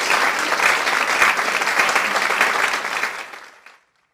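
Canned applause effect played from a radio studio console, a dense burst of clapping that holds steady for about three seconds, then fades quickly to silence.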